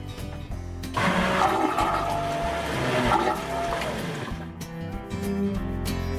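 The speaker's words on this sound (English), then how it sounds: "electric head with freshwater flush and macerator." An electric marine head with freshwater flush and macerator on a 2006 Hunter 46LE sailboat flushes with a loud whirring, gurgling rush lasting several seconds before easing off, close by and without talk.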